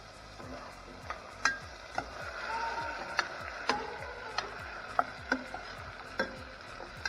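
Chopped capsicum stirred in a pan of frying tomato and carrot for macaroni pasta: a soft, steady sizzle broken by regular scraping and tapping of the spoon against the pan, fairly close.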